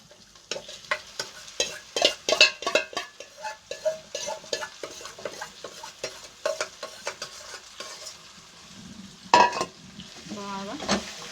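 Marinated chicken frying in a pan, stirred with a utensil that clinks and scrapes in a steady rhythm over a low sizzle, followed by a few louder knocks and a brief rising whine near the end.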